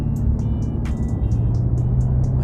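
A Mercedes-Benz car engine hums steadily and closely throughout, with a regular light ticking repeating over the low drone.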